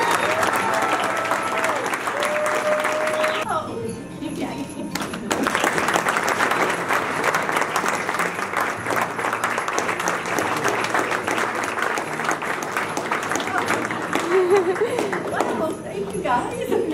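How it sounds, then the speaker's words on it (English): Sustained round of audience applause at a Keller Williams company profit share party, dense and continuous clapping that briefly drops out then resumes, with scattered voices in the crowd. "I think we all need to give her a round of applause for everything"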